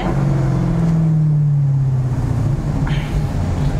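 A Maserati GranTurismo S 4.7 MC with its V8 engine accelerating in second gear on an industrial estate, a loud, close, continuous throaty drone rising and then easing, with no talk over it.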